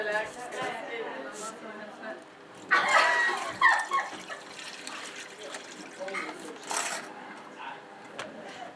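Water poured out of a container of boiled instruments, a splashing trickle with clinks of metal, close by, while a person talks over it.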